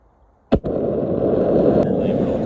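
The Devil's Forge furnace, used for melting aluminum cans at night, catches with a sharp pop after a moment of quiet and then settles into a loud, steady, roaring burn that carries to the end.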